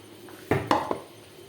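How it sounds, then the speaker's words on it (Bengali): Knife knocking against a board or dish while washed green chillies are cut, a few close, sharp clicks in quick succession with no voices. "এখন এগুলো সুন্দর করে কাটবো"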